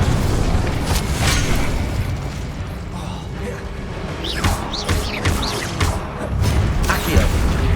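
An Incendio fire spell cast in Hogwarts Legacy, heard as loud bursts and whooshing pops over a constant rumbling battle bed, with several sharp impacts and mechanical clanks.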